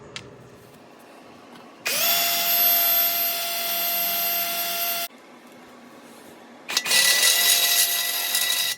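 A power drill boring a hole under a Dodge Charger or Challenger with a 5.7 HEMI during oil pan removal, a loud close whine in two bursts of about three and two seconds with a pause between.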